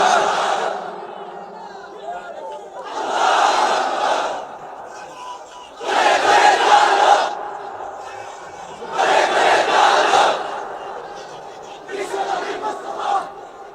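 A large crowd at a sermon shouts a takbir response in five loud bursts, roughly two seconds apart, each a massed roar that swells and drops back to quiet.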